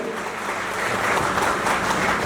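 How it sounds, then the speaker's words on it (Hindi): Strong audience applause for a contest winner fills the room, a dense, steady wash of clapping that swells slightly toward the end with no voices standing out. "जोरदार ताली एक बार फिर से हमारी विनर साहिबा के लिए।"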